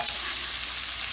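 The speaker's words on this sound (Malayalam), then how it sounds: "നമ്മുടെ ഉള്ളി സവാളയാണ്, ഇത് നല്ലോണം കിടന്നൊന്ന് വഴണം." Onions sauté with salt and curry leaves in a pan for a Kerala-style egg roast, giving a brief, close, steady sizzle and frying hiss with faint stirring, no voices.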